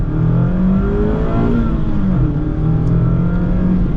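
A 2021 Mazda Miata with the Brembo and BBS package accelerates, its engine hum rising steadily and loud throughout a short, continuous run with no talking.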